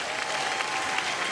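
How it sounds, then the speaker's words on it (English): Google employees applaud Alphabet CEO Sundar Pichai on stage at the Google I/O 2022 keynote, a brief burst of dense, even clapping from a crowd. "Getting some applause from the employees"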